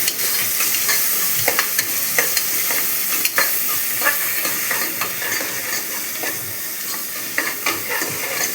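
Small onions sautéing in a pan, a close, loud sizzle broken by frequent rhythmic scrapes and taps of a spatula as they are stirred.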